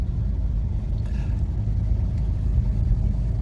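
Kia Seltos facelift rolling at 30 km/h on cruise control, heard from inside the cabin as a steady low road and engine rumble with a faint brief rustle, no speech.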